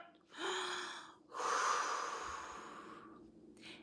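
Two sharp, audible intakes of breath in quick succession, the second longer and trailing off, close and isolated from a children's song about taking a breath when angry.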